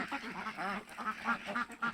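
A flock of Khaki Campbell and Pekin ducks quacking close by, several overlapping calls in quick, uneven bursts.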